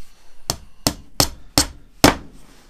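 An alignment pin is hammered into a partially drilled hole while building ribs for a Zenith 701 experimental airplane, five sharp metallic taps at an even, slightly quickening pace, close and clear with nothing else over them.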